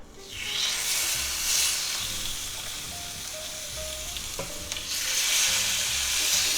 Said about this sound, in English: We're going to lay our boneless pork chops right in there.